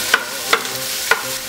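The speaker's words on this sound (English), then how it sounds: "It's time to get the onions going. Saute them for about 5 minutes" Onions sauteing in a pan, with a soft steady sizzle broken by three sharp stirring scrapes spaced across a brief moment.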